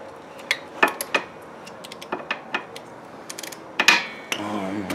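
A ratchet and socket tightening exhaust bolts on a Buddy 125 scooter, heard as scattered sharp metallic clicks and clinks at close range, with a short stretch of talk near the end.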